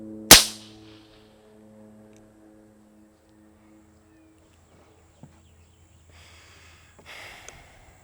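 A single sharp, loud snap from a Diana Stormrider .22 air rifle with a baffled muzzle brake, fired in a backyard, followed by a brief ringing tail, then quiet with faint handling sounds.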